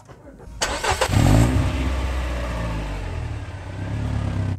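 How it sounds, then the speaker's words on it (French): A Peugeot 206 S16 with a 2-litre engine running on ethanol starts with a short cranking burst, then catches and settles into a quiet, steady idle; a voice talks over it. "comme vous l'entendez au démarrage, ce 2 litres est plutôt silencieux"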